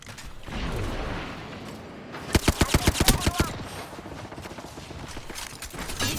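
Rapid gunfire from an Apex Legends match rings out as a quick burst of about ten sharp, evenly spaced shots, loud and close, set against game ambience and faint voice lines.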